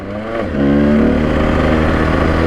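A two-stroke Husqvarna SM125 supermoto motorcycle engine revs up and then holds a loud, buzzy, steady drone close by, with no voices.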